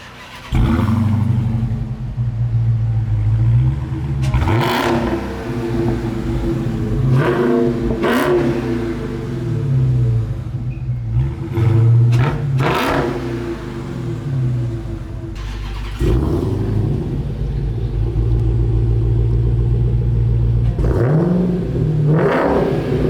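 A loud Dodge Hellcat muscle car engine revs repeatedly in sharp bursts, deep rumbling between throttle blips, close by with no talking.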